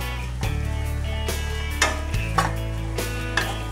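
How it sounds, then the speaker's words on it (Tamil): Chaat masala and garam masala frying in hot oil for potato rice make a continuous sizzle, broken by several sharp metallic spoon clinks and scrapes against the pan. "இது எண்ணெயிலே ஒரு 2 செகண்ட் ஃப்ரை ஆகட்டும்."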